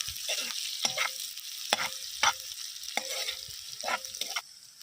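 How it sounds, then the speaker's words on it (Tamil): Large onions sauté in hot oil with a soft, steady sizzle, while a spoon scrapes and stirs through the pan in a series of regular strokes, close and fairly quiet, with no voices. "நல்லா பெரிய வெங்காயம் நல்லா பச்சை வாசம் போகிற வரைக்கும் நல்லா வதக்கிக்கலாம்"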